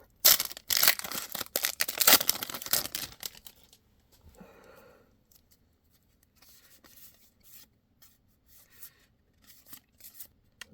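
Avatar-themed Magic trading card booster packs being torn open, with a dense burst of crinkly foil ripping and rustling for about three seconds, followed by softer scattered card shuffling and handling sounds.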